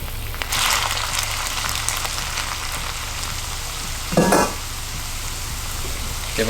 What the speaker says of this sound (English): Give it a little bit of a stir.